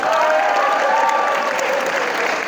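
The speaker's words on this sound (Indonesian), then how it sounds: "berikan tepuk tangan untuk kita semua malam hari ini." High school students at a Jatinangor school applaud together during an evening motivational session before exams, a continuous, dense, fairly loud clapping crowd with faint voices mixed underneath.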